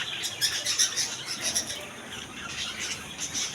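Assorted doves and other caged birds in a shop selling Bengali finches and Australian doves, giving a steady chorus of chirps, squawks and occasional wing flaps, moderately close and with no one speaking.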